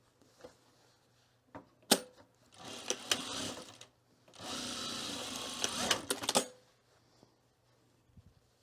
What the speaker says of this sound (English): Let's sew this together here.